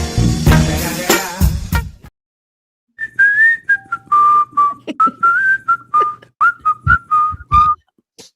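After a burst of noisy chatter, a person whistles a loud, piercing, tuneful run of short and held notes, sharp and close.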